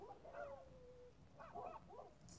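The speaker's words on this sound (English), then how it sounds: "You probably hear my dogs going crazy." Dogs at home yipping and whining at a distance, faint high-pitched calls in two short bursts with a quiet pause between them.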